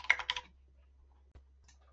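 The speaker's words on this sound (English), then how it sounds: "You can type out the name of your variety" A short quick run of computer keyboard keystrokes clicks close and quiet, followed by near silence with a single faint tap.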